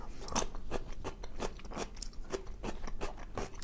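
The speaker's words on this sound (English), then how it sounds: "Let's try the kimchi. No regular kimchi, just the this radish one." Radish kimchi is chewed up close, with crisp, wet crunches repeating in a steady rhythm, alone and without talk.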